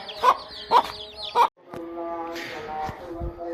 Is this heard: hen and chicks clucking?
yes